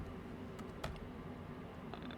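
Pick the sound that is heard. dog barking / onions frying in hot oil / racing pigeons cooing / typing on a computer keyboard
typing on a computer keyboard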